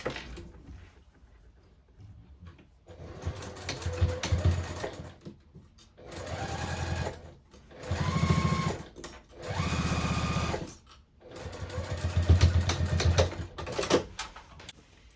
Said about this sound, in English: we just need to stitch that closed